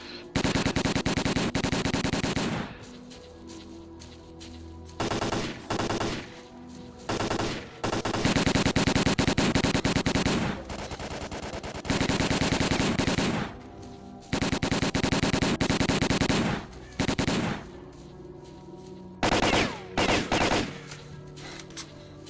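Heavy automatic gunfire fills a firefight against snorks in the video game Stalker: Call of Pripyat, loud sustained bursts of machine-gun fire repeating with short gaps over about twenty seconds.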